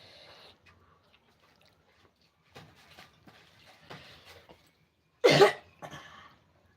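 A person coughs once, sharply and loudly, close by, after a stretch of faint scattered background sounds and muffled voices.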